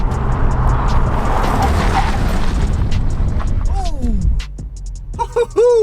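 Hard braking from 60 mph at the cones in a sports car, such as a Ford Mustang, Nissan Z or Porsche 911 in a brake test: loud road and engine roar fades into a short tire squeal as it stops, then voices follow.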